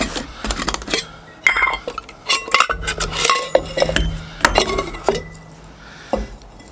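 Camping silverware, pots and a boiling kit clinking while being packed at a lakeside site: irregular metallic clanks, clinks and rattles of cutlery and cookware, close and fairly loud, in bursts with short pauses between.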